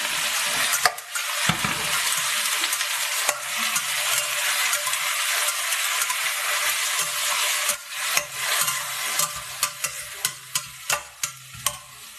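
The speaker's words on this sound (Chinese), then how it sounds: "锅里边倒入油，放入切好的蒜末， 炒香之后倒入西兰花和山药" Broccoli and Chinese yam stir-frying with garlic in oil in a wok, a loud close sizzle with spatula scrapes and tosses, the stirring knocks becoming more rhythmic toward the end.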